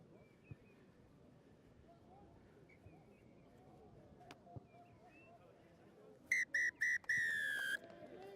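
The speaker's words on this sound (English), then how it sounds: "The final whistle sounds around pitch 1 at Sedbergh" A referee blows the final whistle at a schoolboy rugby tens match at Sedbergh: three short, piercing blasts and then one long blast near the end, over a faint outdoor crowd murmur.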